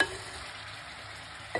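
Vegetables fry in a pan with a soft, even hiss, faint and close, ending in a brief scrape or clatter near the end, with no talking.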